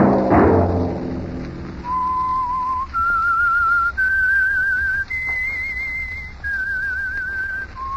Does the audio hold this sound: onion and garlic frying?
no